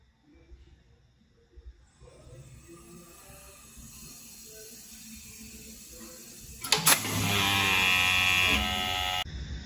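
An ATI Scotch yoke direct gas actuator with line-break and hi/lo trip system runs a fail-mode test: quiet low rumble, then a sudden loud burst of rushing gas at about seven seconds that holds steady as a strong hiss to the end.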